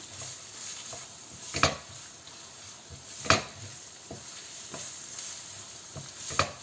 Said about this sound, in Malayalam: ഇത് നല്ലതായിട്ട് ഉള്ളി വഴറ്റിയെടുക്കണം.